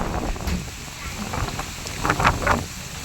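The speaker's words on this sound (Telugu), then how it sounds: "చినుకులు అయితే పడటం స్టార్ట్ అయ్యి కొంచెం పెరుగుతుందండి వర్షం" Steady rain with gusting wind blowing against the microphone, a continuous rushing hiss and occasional louder gusts close by.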